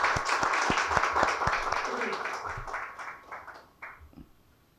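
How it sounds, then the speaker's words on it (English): An audience applauds the authors of a book: a burst of clapping that thins out and fades within a few seconds. "Very big round of applause to both the authors."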